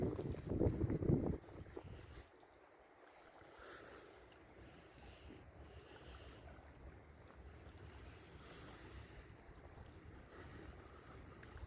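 Waves wash onto the beach at Gruissan in a steady soft rush, with a burst of wind buffeting the microphone at the start and low rumbling surf beneath.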